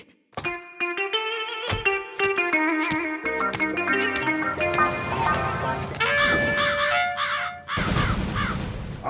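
Cartoon crows caw in a lively animated scene, with bright repeated calls layered over music and sound effects, followed by a sudden noisy burst near the end.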